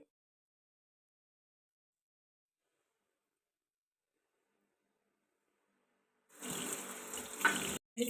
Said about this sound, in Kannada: ವಾಶ್ ಮಾಡ್ಕೊಂಡ್ಬಿಡ್ತೀನಿ ಇದನ್ನು ಫೇಸ್ ವಾಶ್ ಮಾಡ್ಬಿಡ್ತೀನಿ